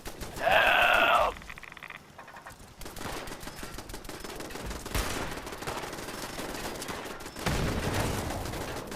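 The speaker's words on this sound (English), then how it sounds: "What the hell's exploding?" Several loud bursts and booms in Fallout 76 come over a noisy game backdrop, opening with a sharp chirping alarm-like sound and followed by broad blasts around the middle and near the end.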